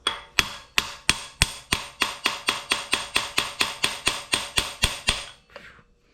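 A hammer strikes a half-inch socket extension used as a punch to drive out a pin on a 4th-generation RAM 1500 rear differential, about twenty sharp metallic blows in a steady fast rhythm, loud and close.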